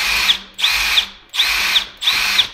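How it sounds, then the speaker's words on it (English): A Milwaukee power drill runs in four quick bursts, each a loud whirring spin that stops briefly before the next, close by with no talking over it. "Jim said the other day that he didn't like Milwaukee's because they didn't have no torque on the drill."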